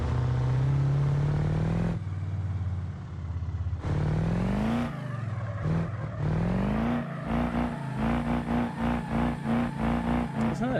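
A truck engine in the BeamNG drag race game revs hard through rising gear sweeps. It turns into a choppy, pulsing drone near the end, loud and continuous with no talking.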